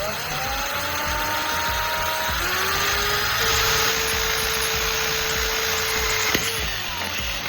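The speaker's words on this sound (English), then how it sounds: "Carefully drill a hole in the center of the plastic bottle cap." A power drill bores a hole through the center of a plastic bottle cap, its high motor whine steady and close, rising in pitch partway through, with no one speaking.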